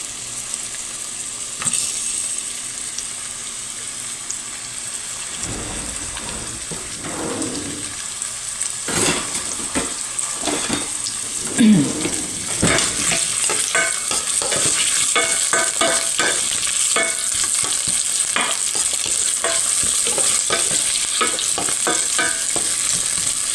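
Onions fry in hot oil in a pan for ginisang kalabasa, a steady bright sizzle throughout with occasional scraping stirs, close and continuous, with no talking.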